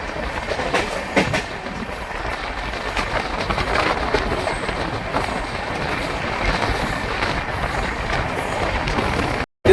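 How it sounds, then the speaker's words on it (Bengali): The Tebhaga Express, hauling LHB coaches, runs along a curved line into Malda Town station with a continuous rumble, rhythmic clickety-clack of wheels and faint squeals, heard close and steady until it cuts off abruptly at the end. "তেভাগা এক্সপ্রেস ট্রেন প্রথম এলএইচবি কোচ নিয়ে মালদা টাউন রেল স্টেশন প্রবেশ করছে।"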